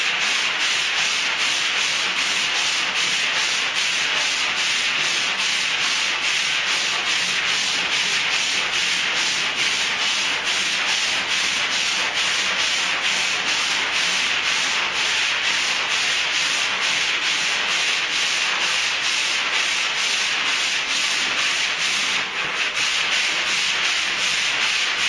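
The side of a truck box is wiped down in a continuous, close, even rubbing hiss that runs steadily without a break.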